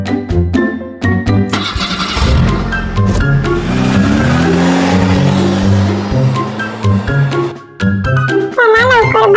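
A car starts up and revs as it pulls away, loud and close, with the engine rising and falling over bright musical tones and jingly chimes that run throughout.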